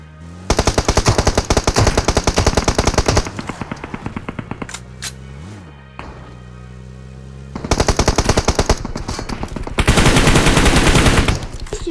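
PUBG Mobile gunfire, loud rapid bursts of automatic fire close by, broken by a brief lull with a single shot, then resuming in heavy sustained volleys.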